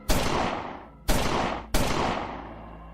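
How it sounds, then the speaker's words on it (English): Three loud gunshots, each a sharp crack with a long echoing tail, the first two about a second apart and the third quickly after. "as he heard 3 gunshots"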